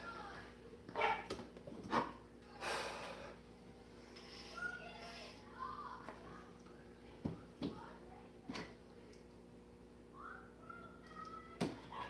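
Dogs bark in short bursts, several sharp yelps spread across a noisy room with a steady hum and scattered thumps; they sound moderately close, with no clear talk over them.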